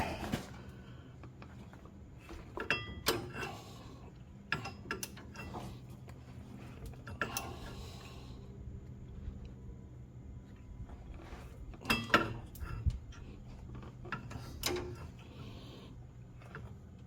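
Socket wrench working the front crank pulley on a Ford 351W engine, with scattered ratcheting clicks and metallic clanks, some in quick pairs, over a low steady hum, close and moderately loud.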